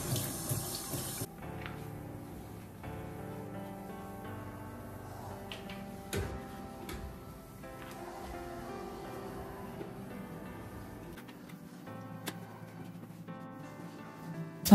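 A kitchen sink tap runs steadily while dishes and counters are cleaned up after a weekend meal at home, with clinks and handling noises over a faint background of music.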